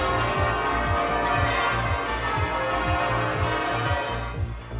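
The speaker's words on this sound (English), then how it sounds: "church bells ring out across the UK, sounding a warning about the dangers of climate change" Church bells peal across the UK as a climate-change warning, a dense, continuous wash of ringing with a steady rhythmic pulse underneath and no voices.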